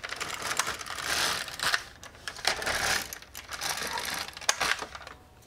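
An LK150 knitting machine carriage is pushed across the needle bed for two rows, giving continuous close rattling and clicking in two long passes with a brief pause between, and no talk.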